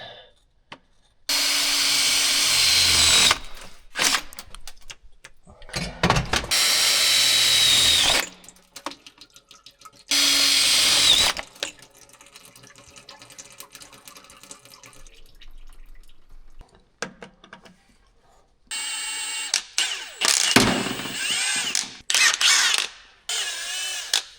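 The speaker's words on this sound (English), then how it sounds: "I'm just gonna drill that thing, letting it drain" A power drill whirs in several loud bursts, separated by quieter gaps with faint dripping and handling noises, while servicing a wheel loader and letting fluid drain.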